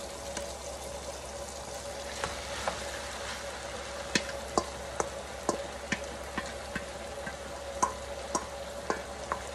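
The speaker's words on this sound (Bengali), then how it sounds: "এই পর্যায়ে এসে আমি আমার নুডলসগুলো দিয়ে দিব," Boiled noodles are stir-fried with vegetables in a pan, giving a soft steady sizzle under repeated scraping and tapping of a utensil against the pan, with no voices.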